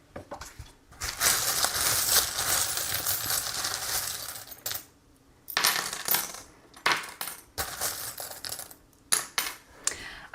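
Small metal charms being cast onto a surface for a reading: bursts of clinking and rattling, scattered jingles and taps in several clusters separated by short pauses, close and crisp with no talking.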